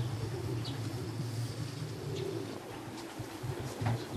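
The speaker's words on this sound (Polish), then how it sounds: "O, i jest kolejny gołąb." Racing pigeons at their home loft during a race arrival, giving soft, low cooing calls that repeat over a steady background hum, with faint traffic noise in the distance.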